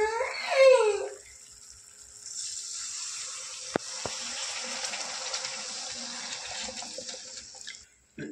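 Water is poured from above into a pan of simmering paneer masala gravy, a steady splashing gush lasting several seconds and close by, with a brief clink partway through.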